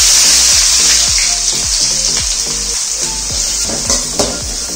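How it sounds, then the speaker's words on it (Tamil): Onions dropped into hot oil for a squid pepper fry, a loud continuous sizzle and hiss with repeated scraping and stirring clanks against the pan, no talking. "வெங்காயத்தை போட்டுக்கலாம். எண்ணெய் நல்லா சூடாயிடுத்து."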